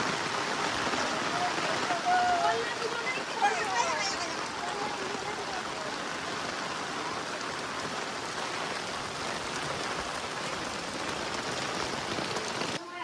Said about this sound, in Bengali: আজকে একদম এত জোরে বৃষ্টি হচ্ছে